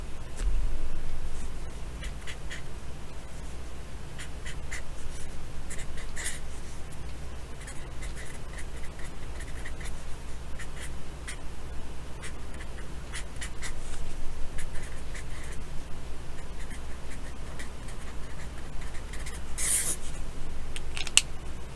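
A pen scratching and circling on paper during a tarot and I Ching reading session, a soft continuous writing rustle with occasional sharper strokes over a low steady background hum.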